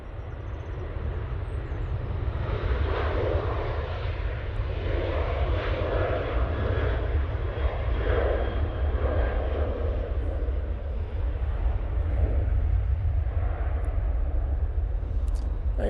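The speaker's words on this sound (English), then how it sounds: "There goes the Ryanair." A Ryanair airliner passes at Manchester Airport with a steady, loud engine roar and heavy low rumble that holds evenly for the whole stretch, without talk over it.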